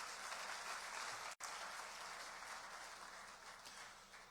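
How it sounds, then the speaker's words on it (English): Faint, steady applause from an audience at the launch of a national credit score system fills the room in a continuous wash, honoring the Central Bank team, with one brief dropout. "shall we do a big round of applause for them?"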